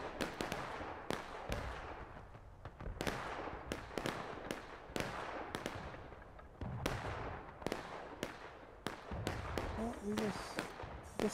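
Distant musket volleys in the War of Rights video game, a Civil War battle: repeated sharp cracks scattered irregularly across the scene, some overlapping in rolling bursts, with faint voices underneath.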